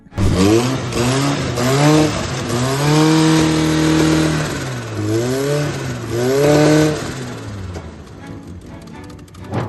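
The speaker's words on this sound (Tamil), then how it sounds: "ஸோ ஃபைனலாக வண்டியை ஸ்டார்ட் பண்ணியாச்சுங்க." A vehicle engine runs after its cylinder head has been reassembled, revving up and down in repeated swells over a steady idle, loud and close with no talk.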